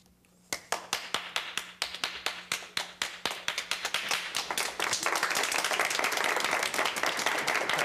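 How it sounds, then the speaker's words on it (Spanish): A classroom group applauds a teacher, beginning with scattered distinct claps in a loose rhythm that quickly thicken into a dense, continuous round of clapping, close and lively. "usted se ganó ese aplauso"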